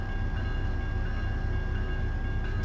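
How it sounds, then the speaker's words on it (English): A train barrels through a town with the crossing gates still up in the American Truck Simulator game, a dense, steady rumble and clatter filling the whole stretch at constant loudness. "Oh, so the train comes barreling into town and then just goes."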